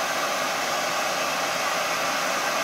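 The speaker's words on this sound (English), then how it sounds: "the hair dryer is at 755 watts" A hair dryer drawing about 755 watts runs from a 2000-watt pure sine wave power inverter, giving a steady, loud, even rushing hiss that holds unchanged throughout with no talk.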